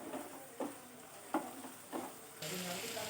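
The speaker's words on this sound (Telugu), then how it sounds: "మసాలా వేసుకుని ఇలా బాగా కాసేపు మగ్గబెట్టుకోవాలి" Masala with ginger garlic paste sautés in a pan for a mushroom curry, giving a soft, steady sizzle and several rhythmic spoon scrapes, then a louder, brighter hiss near the end.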